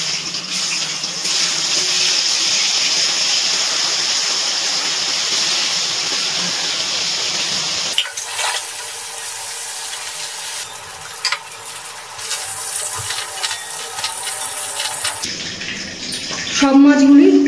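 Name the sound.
frying fish in oil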